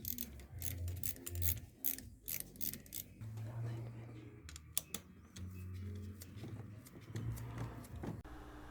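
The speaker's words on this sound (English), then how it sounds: "Let's loosen and remove the T30 bolt which holds the coolant nipple in place." A ratchet loosens the T30 bolt holding the coolant nipple on a SEAT Leon Cupra 280 5F CJXA engine, with bursts of close clicking and metallic rattling mixed with shuffling handling noise and pauses.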